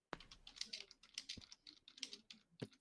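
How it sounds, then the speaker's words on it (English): Someone types on a computer keyboard in quick, irregular bursts of clicks, near and fairly quiet, with short pauses between the runs. "Can hear the typing, Gilmar."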